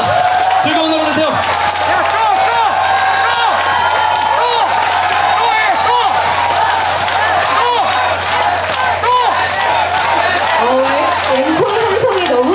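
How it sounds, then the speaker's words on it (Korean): A large outdoor concert crowd at the 2022 Yeongdeok Golden Sweetfish Festival shouts and cheers for an encore from a trot singer, a loud, dense, unbroken roar of voices with chanting and whoops, and a voice briefly rising near the end. "앵콜 함성이 너무나 큰데요."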